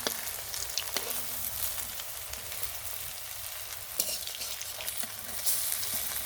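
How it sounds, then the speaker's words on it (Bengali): Khesari lentil fritters fry slowly in hot oil and are turned over, making a continuous soft crackling sizzle with occasional light clicks from a spoon or spatula. "তো আস্তে আস্তে করে কিন্তু বড়াগুলি ভাজতে হয়"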